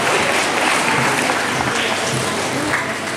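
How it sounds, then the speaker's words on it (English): An audience gives sustained applause for students winning prizes in an extempore speech contest at a Christmas school event, dense and steady clapping filling the whole stretch. "Let us all give them a round of applause."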